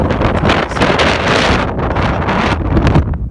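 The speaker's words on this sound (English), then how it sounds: "it's super windy right now." Strong wind on the Great Plains roars and buffets the microphone continuously, loud and gusty throughout, with no voices.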